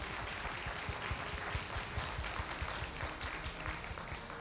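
Sustained applause from an audience at a business gathering, many hands clapping at a steady, dense rate and fairly far off, running unbroken the whole time with no voices over it.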